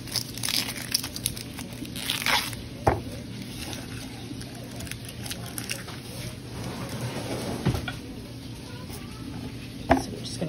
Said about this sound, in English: So we're just gonna cut it like this. We kind of cut them in thick slices